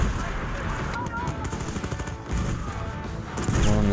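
Mortar and gun fire in Battlefield 1 gameplay: dense, rapid bursts of shots and booms that roll on continuously and swell at the end, mixed with other battle noise and some talk.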